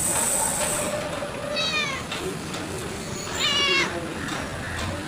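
A cat gives two drawn-out meows, the second slightly louder, over a steady rumbling, hissing background that resembles a moving train.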